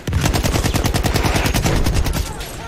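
A BAR automatic rifle in Battlefield 1 fires one sustained, rapid burst of evenly spaced loud shots for about two seconds, then cuts off into a short ringing tail.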